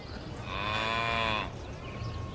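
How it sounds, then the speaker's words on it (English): One long, loud cow moo sounds close by in a calm farm setting, rising and holding about a second before fading into quiet ambience. "And cows like to feel calm,"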